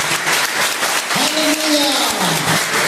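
A church congregation applauds loudly and continuously while a voice calls out briefly over the clapping midway through.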